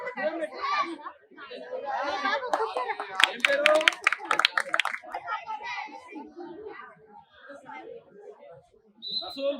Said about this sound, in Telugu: చూడండి ఫ్రెండ్స్, గట్టిగా చప్పట్లు కొట్టండి. గో, చప్పట్లు కొట్టండి అన్న కోసం ఒకసారి.